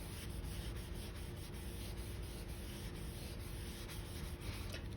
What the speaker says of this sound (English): You could use a blending stump, and you can kind of smooth this out a little bit.